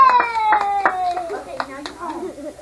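Family members clapping and cheering at home, a few sharp hand claps mixed with excited voices and children's chatter, close and lively in a small room.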